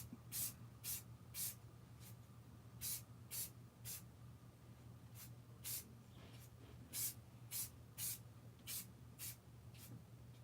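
Spray bottle misting the synthetic hair of a Michael Myers mask, about a dozen short sharp hissing sprays in uneven pairs and triples, close and distinct against a quiet background, no talking.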